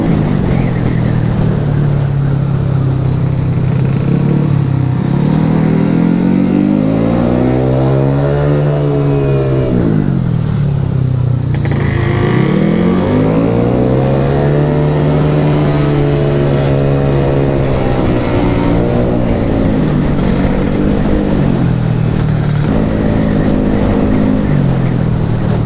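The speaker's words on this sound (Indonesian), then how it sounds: "Dia udah borap deh nih, kenceng nih motor nih." A modified, bored-up 165cc classic Vespa scooter riding through Jakarta, its loud engine close and continuous, rising and falling in pitch as it revs and shifts, with wind noise over it.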